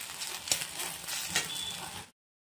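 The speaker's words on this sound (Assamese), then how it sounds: "পিঁয়াজ নহৰুখিনি ভজা হৈ গ'ল" Onion and garlic sizzle in hot oil in a home kitchen, a steady close frying hiss broken by a couple of sharper utensil clicks before it stops abruptly.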